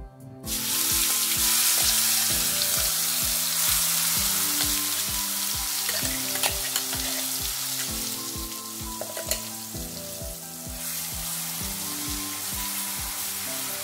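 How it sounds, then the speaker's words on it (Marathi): Curry leaves, asafoetida and ground red chilli-garlic paste hitting hot oil in a pan, a sudden loud sizzle that settles into steady crackling frying, with faint spatters and a rhythmic background hum, no voice present. "ह्यामध्ये थोडा कढीपत्ता टाकते, थोडीशी हिंग, वाटण घालते"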